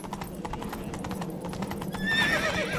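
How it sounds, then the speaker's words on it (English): A horse in The Witcher 3 neighs loudly near the end while its hooves clip-clop steadily throughout, set in a misty island area of the game. "What the hell is wrong with this horse?"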